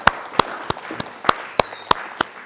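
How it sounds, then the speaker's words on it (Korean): A church congregation at a Christmas celebration service claps in a steady, evenly spaced rhythm, each clap sharp and distinct, with little talk. "우리 박수로 한번 축하하겠습니다."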